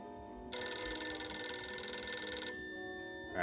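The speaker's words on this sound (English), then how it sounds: "Alright, I guess we'll answer the phone." A loud, bright telephone ring sounds for about two seconds in the Dracula 3: The Path of the Dragon video game, then cuts off and leaves a quiet background hum.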